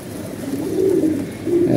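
Red-eyed pigeons cooing close by, a low steady warbling coo that swells and repeats over a couple of seconds.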